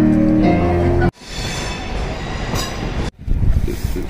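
Train arriving at a station, loud rumbling rolling wheels and rattling carriages close by, with squealing tones early and abrupt cuts between segments, and voices partly under the noise.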